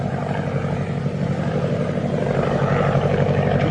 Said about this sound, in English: It's a plane, maybe from 3 Point.